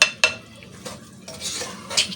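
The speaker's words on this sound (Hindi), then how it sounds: "अब इसको चला देते हैं और साथ ही ये तमाम मसाले डाल देते हैं" A utensil stirs minced keema with chopped tomatoes and spices in a pan, giving a couple of sharp metallic scrapes and clinks over a faint sizzle, close and quiet, with no voices.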